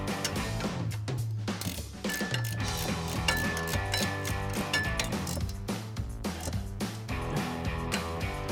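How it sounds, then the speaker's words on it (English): A 17mm ratchet wrench clicks rapidly and closely as it tightens the mounting bolts of an offroad suspension lift kit on an F-150, in steady bursts of ratcheting with faint metallic clinks between strokes. "grab your 17mm ratchet wrench and tighten down your 3 mounting bolts"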